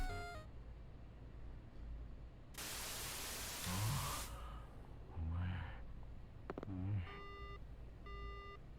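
A phone text-message notification in the video game Spirit Hunter: NG sounds as a few short, clear electronic beeps near the end, following a loud burst of static hiss and some breathy sounds.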